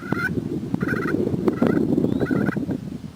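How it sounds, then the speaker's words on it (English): Soft rolling purrs drawn on the glass side of a turkey friction call, several short fluttering bursts close by over a steady low rumble of background noise. "If I purr on the glass side,"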